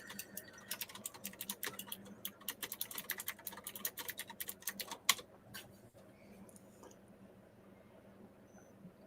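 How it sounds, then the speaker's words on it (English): Rapid clicking keystrokes on a computer keyboard come in quick irregular bursts for about five seconds, then stop, leaving quiet room tone with a few faint clicks. "you reading what I'm typing?"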